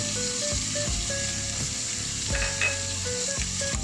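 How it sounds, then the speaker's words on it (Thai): Braised beef for holy basil stir-fry is tossed in a pan with seasonings such as oyster sauce, giving a steady close sizzle with scraping stirs. "ผัดคลุกเคล้าให้เข้ากันเลยนะครับ"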